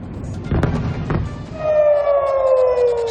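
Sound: air raid sirens wailing

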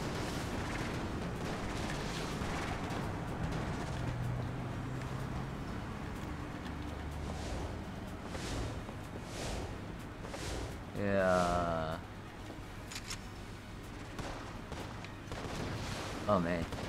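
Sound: gunfire from guns in the video game Enter the Gungeon

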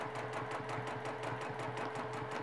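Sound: sewing machine doing free motion up and down quilting stitches

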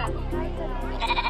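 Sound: goats bleating at agricultural show

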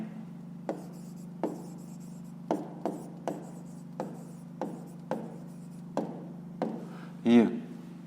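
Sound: writing by hand

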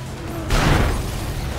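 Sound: car crash in Need for Speed World video game

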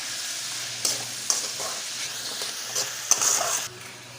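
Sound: onions and tomatoes sautéing in a pan

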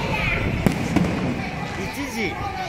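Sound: fireworks at New Year countdown in Phuket

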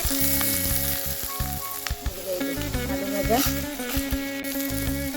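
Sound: frying vegetables with potato in a pan

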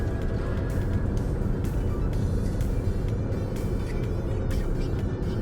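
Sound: road traffic in a traffic jam

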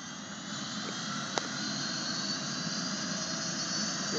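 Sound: Dauphin II medical helicopter taking off at airport

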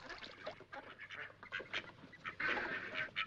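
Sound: ducks quacking

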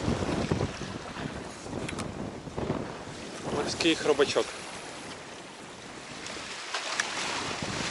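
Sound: strong wind at the sea shore

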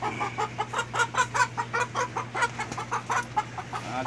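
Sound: hens clucking

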